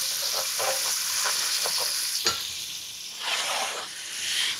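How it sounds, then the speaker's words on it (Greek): Onion and garlic sautéing together in a pan, a close, steady sizzle with repeated stirring scrapes and one sharp knock midway, the hiss swelling again toward the end. "Σοτάρουμε το σκόρδο και το κρεμμύδι μαζί"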